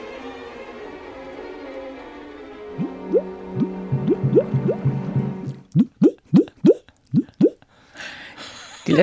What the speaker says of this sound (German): Das sind meine Tropfen.